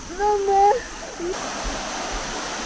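Steady rushing water of a flowing river in Hokkaido, Japan, fills the background, with a person's voice speaking briefly over it near the start.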